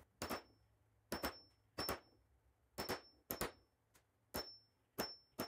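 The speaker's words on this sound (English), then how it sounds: "I'm going to hammer this in." A hammer drives a metal keystock punch into material for a woodworking project, about ten ringing metallic clangs, often in pairs, spaced across several seconds with quiet gaps between, close and crisp.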